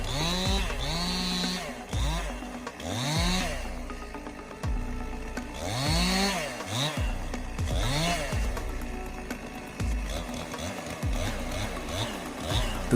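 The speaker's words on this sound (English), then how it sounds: "The sound of a chainsaw is always a mix of gentleness and power." A chainsaw cuts into a tree, its engine revving up and down in repeated surges roughly every two seconds, loud and close, with the whine rising and falling throughout.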